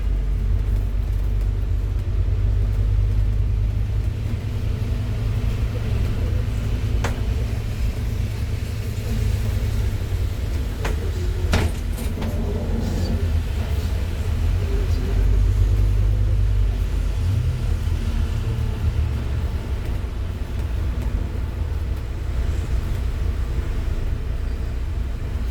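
A sightseeing tour bus drives through Belfast, its engine making a continuous low rumble with road noise throughout and no voices.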